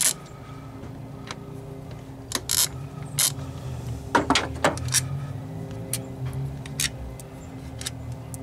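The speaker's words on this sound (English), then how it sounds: "torque bit is what we're using to remove this manifold" A ratchet with a Torx bit turns intake manifold bolts on a 2002-2003 Saturn Vue, irregular clicking pawl ticks and metallic clacks over a low background hum, close up.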